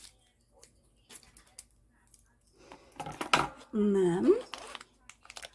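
A plastic wrapper on a pack of DAS air dry clay is cut and pulled open, giving short crinkling rustles partway through after quiet small clicks, with a person speaking briefly nearby.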